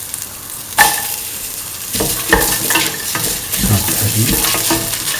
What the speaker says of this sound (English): Keep on sauteing.